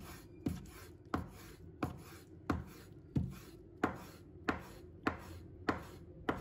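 A knife chops steadily through soaked dried squid on a cutting board, slicing it into strips with about ten evenly spaced, close, crisp strokes and no talking.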